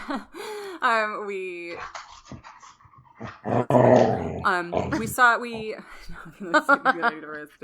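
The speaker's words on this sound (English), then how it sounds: "my dog's going crazy over here" A dog barks, whines and growls in agitated bursts close by, mixed in with people talking over it.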